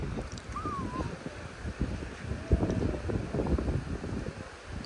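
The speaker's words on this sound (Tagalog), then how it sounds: "Lakas ng hangin apo" Strong wind buffets outdoors in cold weather, a steady broadband roar with gusts rising and falling throughout, close and loud against the microphone.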